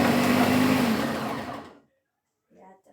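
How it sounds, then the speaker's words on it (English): A blender whirs loudly for under two seconds, its pitch sliding down as it spins off, followed by silence and a brief faint rattle. "the blender might be super duper loud audio"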